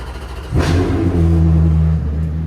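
Ferrari V8 swapped into a Subaru settles into a loud, steady idle after a brief rising rev, with a deep, even rumble and faint harmonic tones held close up.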